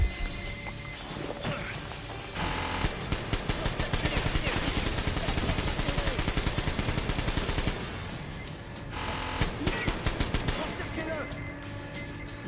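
Rapid gunfire from the video game Metro Exodus crackles in dense bursts through most of the stretch, loud and close, with brief quieter gaps and a voice speaking over parts of it.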